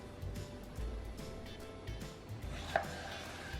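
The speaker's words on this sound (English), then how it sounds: "Next, I slice it down the middle and then I cut them into cubes." A kitchen knife cuts a seeded watermelon into cubes on a board, giving a few soft, muffled chops at an uneven rhythm, close by, with a sharper tap near the end.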